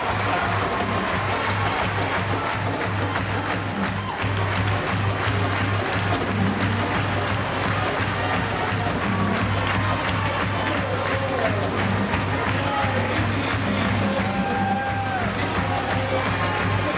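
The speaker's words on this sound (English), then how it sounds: "Let's just listen to the crowd appreciate the game." A big crowd at a girls high school basketball game, a Class AA bronze medal match, applauds and cheers, with whoops and yells. The roar is loud and sustained for the whole stretch.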